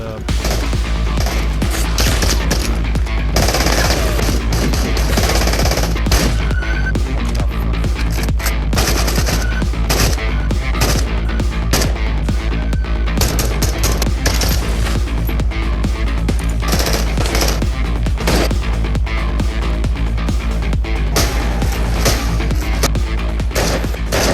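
Sustained automatic gunfire in the VR shooter Into The Radius, loud dense bursts of rapid shots with booming impacts running the whole stretch without pause.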